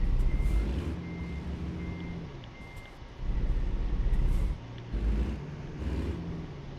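A truck in American Truck Simulator reverses with a steady series of repeated backup beeps over a low diesel engine rumble that swells and fades, loud and close.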